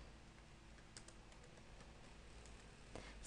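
Steady typing on a computer keyboard while entering Oracle PL/SQL commands, quiet continuous key clicks over a faint background hum, with a few slightly sharper taps.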